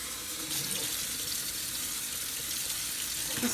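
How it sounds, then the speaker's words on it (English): Cold tap water runs steadily over food in a sink with a continuous hissing splash, fairly close and unbroken, with no voices. "you want to rinse this in cold water"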